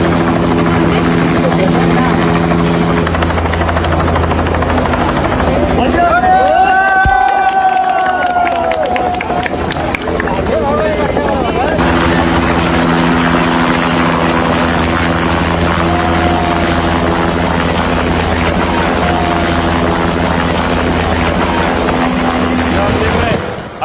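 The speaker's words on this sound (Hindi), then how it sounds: "हेलीकॉप्टर पहुंचा रेस्क्यू के लिए।" A rescue helicopter during a Nepal flash flood, its rotor thudding steadily and loudly throughout, with a low engine drone and faint crowd noise mixed in.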